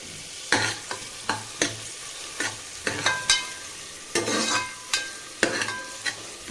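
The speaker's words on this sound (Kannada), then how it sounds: "ಸೊ ಇವಾಗ ಆನಿಯನ್ ಹಾಕ್ಕೊಳ್ತಾ ಇದ್ದೀನಿ." Onions sizzle in a pan for chicken soup while a utensil stirs them, making sharp scraping strokes in an irregular rhythm over a steady frying hiss, close and clear with no talking.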